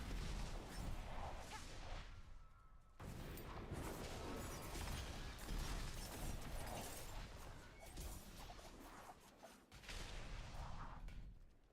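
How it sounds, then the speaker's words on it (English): Loud, dense explosions and crashing bursts fill the mix in the video game Diablo 4 while playing a Rogue, with short dips between waves of booming impacts and no talking. "Explosions."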